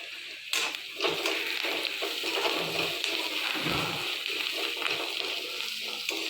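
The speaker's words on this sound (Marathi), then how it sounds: "कांदा भाजून घ्यायचा" Chopped onion frying in oil for wheat upma, a steady close sizzle with crackling bubbles and a few low knocks from stirring.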